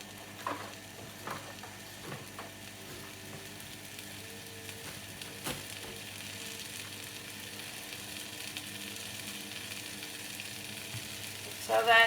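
Strawberries and other berries cook gently in a pan over low heat, giving a faint, steady low sizzle with a few soft clinks and stirring taps, while crumpets toast nearby.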